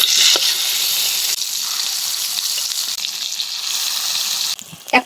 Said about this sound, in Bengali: এখন এই যে মশলা মাহিন্য বেগুনগুলো তৈলের মধ্যে দিয়ে দেবো।